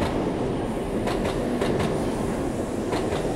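A Tokaido Shinkansen Hikari bullet train rolls in with a steady broadband rumble and faint rhythmic clatter, loud and close, no voices.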